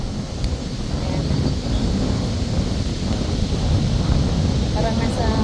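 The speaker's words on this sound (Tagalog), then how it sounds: "Mahangin ngayon kaya medyo maalon." Wind blows across choppy waves on Lac St. Louis, a steady, loud rushing and buffeting over the mic with a low churning wash of water, continuous throughout.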